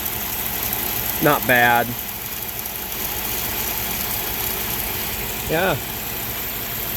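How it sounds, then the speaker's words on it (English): A 1996 Chevrolet K1500 Silverado idles in a steady low rumble with a faint whine from the tensioner running underneath, while someone speaks briefly twice over it. "I think that the little whine is that tensioner."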